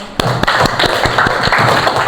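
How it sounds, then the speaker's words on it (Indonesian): Students in a classroom clap in a quick, regular rhythm, with sharp, close hand strikes landing at an even pace over a low room hum. "Tepuk tangan dong."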